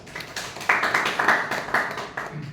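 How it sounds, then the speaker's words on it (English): A small group claps at a meeting honouring a team member, the claps close and uneven, rising to a sustained patter for about two seconds before tapering off. "give a big round of applause to TM Ravi"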